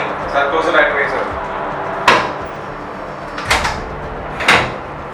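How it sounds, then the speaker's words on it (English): A ship's port side door is shut aboard a vessel, giving three distinct knocking thuds spread over several seconds against a steady background hum, after a short stretch of people talking. "Sir, close the port side door."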